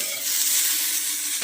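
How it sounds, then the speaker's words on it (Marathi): Green chillies frying in a pan over a gas flame, a close, steady hissing sizzle with light stirring, heard alone. "इथे थोड्याशा मिरच्या फ्राय म्हणजे करते आता"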